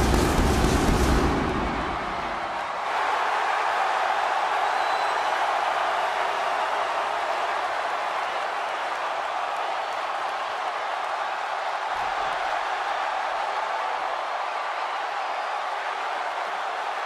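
A virtual arena crowd in the WWE 2K16 wrestling game roars steadily at a steel cage championship match between the Ultimate Warrior and Bret Hart, a dense, sustained wash of cheering after a brief louder burst at the start.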